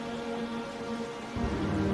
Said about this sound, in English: The rain just happened out of nowhere.